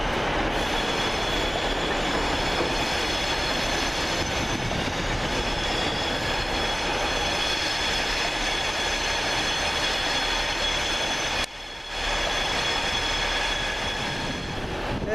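Abellio ScotRail unit 156496 on a Newcastle to Glasgow Central service via Dumfries, rumbling steadily and loudly through a station at Carlisle with wheel squeal and rail noise, briefly dipping near the end before resuming.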